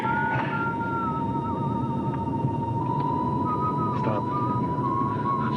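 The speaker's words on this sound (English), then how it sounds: "Stop that whistling." A thin melodic whistled tune plays from a radio over a steady low rumble, wavering notes drifting along without any talk.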